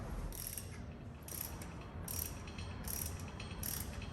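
A ratchet clicks in short repeated bursts while tightening a crank pulley nut on a drift car, each quick rattling stroke separated by brief pauses, close and fairly quiet.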